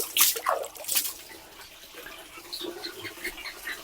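Water splashing and sloshing as clothes are washed by hand outdoors, with a few louder splashes early on and quieter dribbling and dripping afterward.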